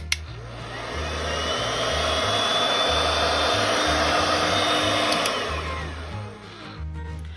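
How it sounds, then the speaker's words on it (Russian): A hair dryer blows steadily to dry paint on plaster frames, a continuous loud whooshing hum that holds for several seconds and then eases off slightly near the end, with a faint low rhythmic hum beneath and no talking. "Для ускорения процесса я использую фен"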